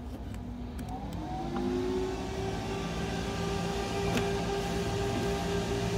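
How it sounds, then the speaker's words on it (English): Twin 5-inch cooling fans inside a solar generator spin up into a steady, close whirring rush of air whose tone climbs slightly then holds, with a low hum underneath and no talking. "So I've got twin 5-inch fans in here, and I can adjust the speeds."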